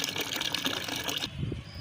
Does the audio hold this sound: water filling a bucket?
yes